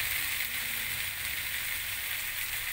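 Chillies and onions frying in a pan for a Malaysian fried fish chilli sambal, a steady, even sizzle that holds without pause or voices.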